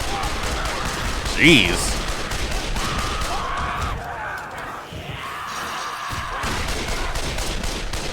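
Gunfire rips through a tense video game arena fight, sustained fusillade of shots with a loud burst near the start, continuing dense and steady under a brief spoken exclamation.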